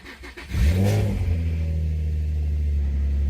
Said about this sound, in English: Key in, power on, start her up.